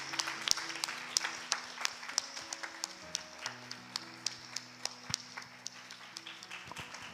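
A church congregation at a Sunday chapel service gives applause to welcome guests forward, the clapping fairly faint and scattered with distinct individual claps over a background of sustained organ-like tones.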